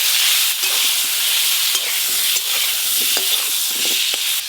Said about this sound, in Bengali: এই পটলগুলো একটু হালকা করে ভেজে নেব।